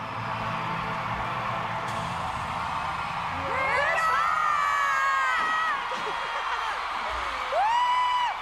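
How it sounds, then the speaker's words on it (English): Fans at a reunion concert erupt into loud cheering, whoops and screams as the first song ends, a dense roaring crowd with rising shrieks in the middle and again near the close. "As soon as they finish their first song, the crowd go mad."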